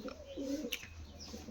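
Laldhoma pigeons give a soft, faint coo, a short low warble heard alone.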